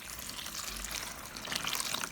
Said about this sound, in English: Pour in enough water to cover the mushrooms.